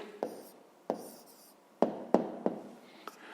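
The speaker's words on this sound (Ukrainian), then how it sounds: "Є, записуємо відповідь." A pen writes an answer by hand on paper, giving a few sharp taps and short scratching strokes spaced irregularly, close and quiet.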